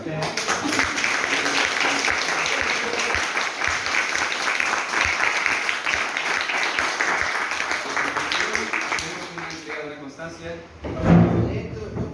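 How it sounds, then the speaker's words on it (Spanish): Sustained audience applause, many hands clapping steadily for about ten seconds before fading, followed by a brief bump of noise. "A continuación, primero un aplauso"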